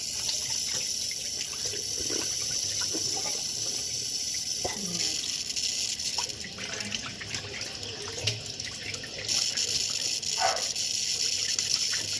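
A tap runs steadily into a sink at night during a bedtime routine, a constant close gush of water with faint clinks and handling noises underneath.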